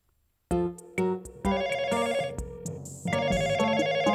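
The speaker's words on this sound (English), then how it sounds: "No one is answering the phone." A telephone rings in a children's cartoon, loud repeated bursts of electronic ringtone starting after a short silence and continuing with a steady melodic pattern.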